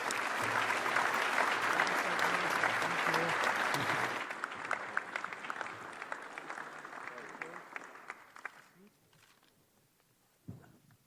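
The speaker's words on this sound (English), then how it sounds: "Please give him a warm round of applause." A room full of people at an Economic Club of Canada event in Ottawa claps steadily, loud at first and then gradually thinning out and fading, with a few murmuring voices underneath.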